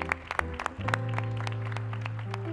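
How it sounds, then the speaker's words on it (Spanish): Scattered clapping from an audience at a Christmas musical drama fades under a sustained held musical tone, the applause thin and brief rather than a full ovation. "¿Por qué no le damos un fuerte aplauso a todos?"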